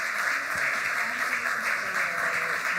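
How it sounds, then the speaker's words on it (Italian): An audience at an international award ceremony applauds, a dense and steady wash of many hands clapping that carries at even strength from start to finish. "So can I have an applause for these 2 wonderful ladies, please?"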